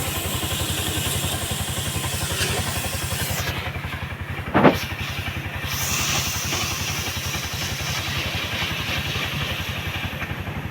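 A BS6 CNG auto rickshaw engine idles up close with a steady, even throb throughout, and a single short clatter near the middle.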